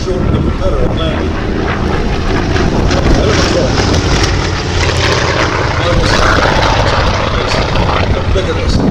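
A Yakovlev Yak-11 propeller aircraft drones loudly and steadily at the Little Gransden Air and Car Show, its engine roar filling the air amid wind noise, with someone talking over it.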